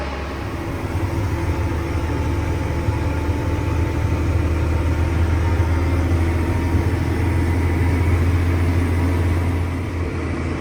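A truck engine hauls a manure tanker at about four miles an hour, making a steady, low, rumbling drone. The chugging holds even and continuous throughout, close and loud, with no talk over it.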